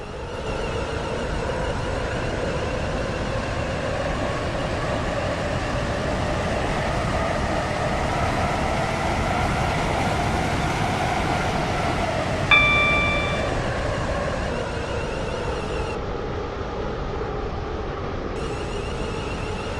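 A train runs steadily in the Roblox game Stepford County Railway, a continuous loud rumbling drone with a rising and falling tonal whine and a brief chime partway through.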